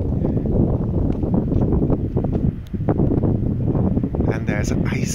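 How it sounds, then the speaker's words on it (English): Ice-cold wind blowing down from the mountains at sunrise in Medjugorje, a loud, constant roar buffeting the microphone throughout, with someone talking over it. "there's an ice cold wind as well coming from the mountains down"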